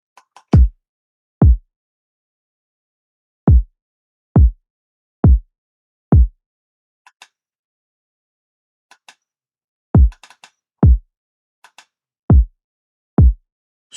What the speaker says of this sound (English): This is like a cymatics kick.